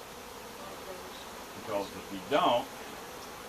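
Honey bees buzz steadily around hive frames during a beekeeping workshop, a low continuous drone with someone speaking briefly over it.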